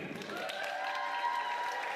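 Applause for graduates at a graduation ceremony, a steady wash of clapping from an audience, moderately loud, with faint cheering mixed in.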